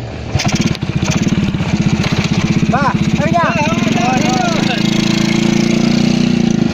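A motorcycle engine runs close by, with a steady rhythmic chug that holds a constant pitch throughout. A voice speaks briefly over it.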